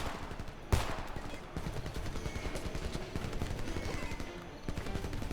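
Sustained machine gun fire during a firefight in the shooter game Homefront, rapid close bursts of shots with one sharp loud crack near the start, continuing steadily to the end.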